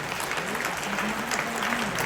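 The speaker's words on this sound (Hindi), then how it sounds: "हमारे तमाम अतिथियों के लिए जोरदार तालियां बजा दीजिए" An audience at a film festival applauds its guests, a dense continuous wash of clapping filling the hall at even loudness, with a faint voice mixed in.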